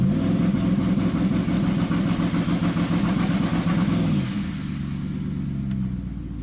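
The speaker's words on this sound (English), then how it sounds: "Now we're going to go ahead and put it to the floor and see what RPMs we can get out of this thing" A twin-turbo Ford F150 with a 10R80 transmission is held on the trans brake while its engine revs hard in a loud, sustained roar, then drops to a lower, rougher rumble near the end.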